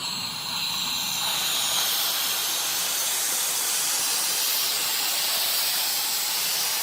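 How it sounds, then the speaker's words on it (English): A 230-liter liquid nitrogen tank vents down toward 10 psi while filling a Bruker 400 NMR magnet: a loud, steady hiss of gas rushing out, continuous and harsh with a faint low rumble underneath. "This is the liquid nitrogen, 230 liters, and I have to vent it down"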